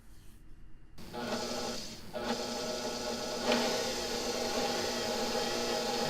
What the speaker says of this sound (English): Now I'm going to check that and make sure it's all running well. This is a single direction motor.